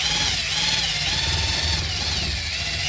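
A coarse buffing wheel from Harbor Freight spins steadily against aluminum, a loud, continuous motor whine with a rough rubbing grind and no pauses.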